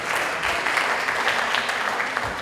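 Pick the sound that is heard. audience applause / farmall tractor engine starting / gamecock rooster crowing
audience applause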